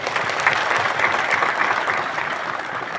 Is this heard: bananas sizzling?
no